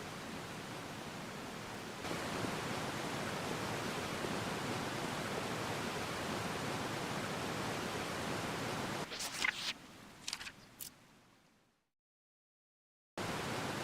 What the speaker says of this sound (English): this huge waterfall is so pretty.